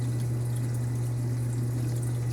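Protein skimmer on a reef aquarium running with its foam and bubbles back, giving a steady low hum under a continuous fizzy bubbling and trickling wash that holds even and unbroken, with no voices.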